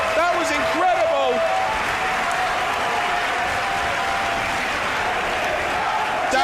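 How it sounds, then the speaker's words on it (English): Wrestling crowd at York Hall cheering and applauding loudly and steadily after a near-fall kick-out from a Death Valley bomb, a dense roar of voices and clapping with a few shouts early on. "Listen to the crowd."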